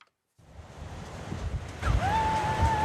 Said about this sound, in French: À Dieppe, les vagues se fracassent sur les quais.